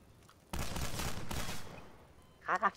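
Burst of rapid video-game gunfire in Garry's Mod, a dense loud volley lasting about a second, followed near the end by a couple of short sharper shots.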